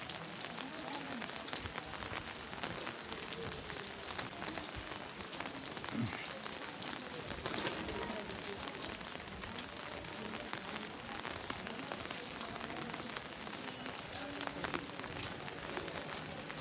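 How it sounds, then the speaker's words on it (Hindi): Heavy rain pours steadily in Swat, a dense continuous hiss of drops on surfaces that stays loud and even throughout, with no talk over it. "बारिश हो गई है तेज़,"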